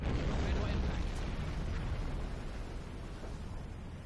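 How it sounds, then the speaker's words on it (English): A torpedo strikes a ship in the submarine game Silent Hunter 5. The blast is a heavy, sustained rumbling roar that fills the whole stretch and slowly fades. "torpedo impact."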